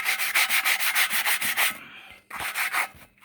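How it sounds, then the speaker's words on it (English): Hand sanding a metal intake manifold, a rapid, rhythmic rasping of abrasive against metal in steady back-and-forth strokes, close and loud, pausing briefly before another burst of strokes. "If I sand on this"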